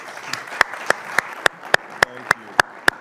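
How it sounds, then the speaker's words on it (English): Audience clapping at a leadership panel event, a short run of sharp, evenly spaced claps, close and distinct, about ten in three seconds. "So we should applaud him for that."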